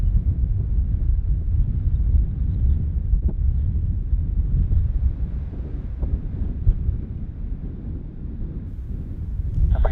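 Strong gusty wind of about 26 knots buffeting the microphone at Bristol airport during Storm Dudley, a heavy continuous low roar with faint rumble, no voices.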